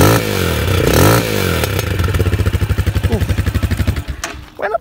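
A Vento Storm 250 motorcycle engine revs up loudly, then settles into a rapid rhythmic exhaust putter that slows and cuts off near the end.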